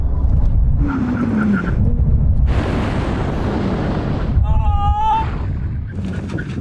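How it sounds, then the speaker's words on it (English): Loud engine roar and road noise from a fast sports car, then hard emergency braking from 70 mph with tyre squeal and a sharp screech as it slows to a stop. "Now we're going to have a brake test from 70 miles an hour."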